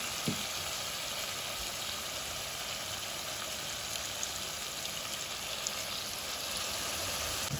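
Chicken pieces sizzle and fry in a pan after a splash of water for a Bihari bhuna chicken, a steady close hiss of frying with faint crackles and no talking.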